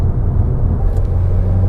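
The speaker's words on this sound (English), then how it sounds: "I love how this thing downshifts." A heavy manual sedan of about 3,500 pounds rumbles loudly as the engine revs during a rev-matched downshift, a brief dense roar with no voices.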